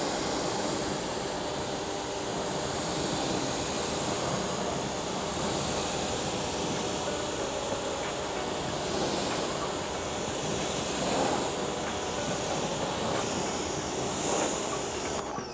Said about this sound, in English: I'll grab my pressure washer